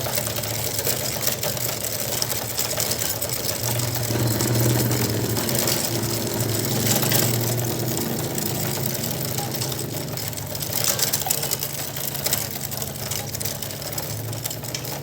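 A steady mechanical whirring and rattling hum of a Honda CD70 motorcycle's chain turning over its sprockets with the engine idling, continuous and close throughout.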